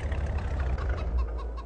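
Chickens cluck in Farming Simulator 22, soft, brief calls over a low idling truck engine rumble.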